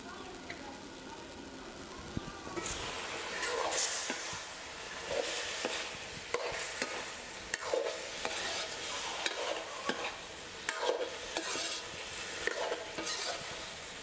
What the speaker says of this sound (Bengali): আমি এখন এটাতে আর একটি নাড়া দেব